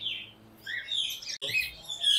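Caged pigeons at a Sunday bird market in Multan, including Jacobin and saddle frill breeds, chirping and tweeting in bright overlapping calls close by, with no talk over them.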